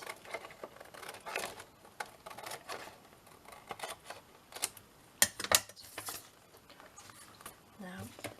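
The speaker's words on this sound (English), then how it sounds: "I'm just going to cut it out. Just go around the outside gently, make sure you don't cut into it." Scissors snip gently around the edge of a laminated journal cover in quiet, irregular bursts of crisp clicks and plastic rustle separated by short pauses.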